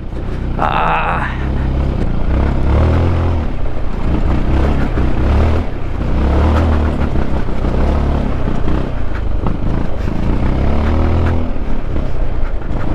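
A Zontes 400G motorcycle labors uphill over a rocky mountain road in rural Tarlac, its engine droning loud and steady throughout as stones clatter beneath the wheels, with a brief voice near the start.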